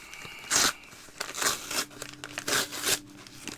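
A package torn open by hand with no scissors: several loud bursts of crinkling, ripping plastic and cardboard in separated tugs, close up and with no voice over them.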